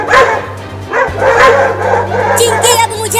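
Cartoon dogs barking loudly in quick bursts close up, a few sharp yaps and woofs with a whimpering yip, over a faint background hum.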